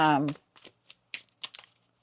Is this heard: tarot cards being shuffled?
yes